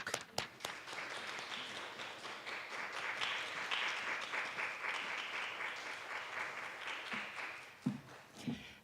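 Steady applause from an audience at a faculty lecture welcoming the speaker, sustained hand clapping that builds slightly in the middle and then tapers off, with a few louder single claps and knocks near the start and end.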